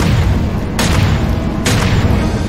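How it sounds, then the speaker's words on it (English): Gunshots aimed at a fleeing car in an animated kidnapping chase, heard as two sharp broadband cracks about a second apart over a constant loud low rumble of engine and road noise. "They're shooting at us."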